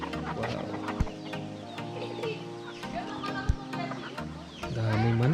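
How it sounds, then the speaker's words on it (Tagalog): A flock of chickens on a rural property in Inmalog, Pangasinan, clucks and calls in irregular bursts close by, with a person's voice talking over them and a louder squawk near the end. "Yun oh, mga manok guys."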